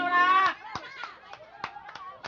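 Sparse, scattered hand claps from a small crowd at a barangay coffee gathering in Dulonan, Arevalo, Iloilo, following a sung phrase, with light chatter between the claps.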